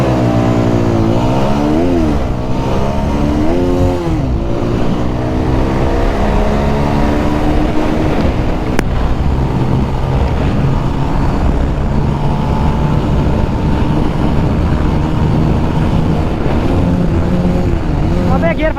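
Two Bajaj Pulsar 220F motorcycles, a 2026 model and a 2016 BS3 model, race side by side in a drag race. Loud engines rev and climb through the gears without a break, and voices can be heard over them.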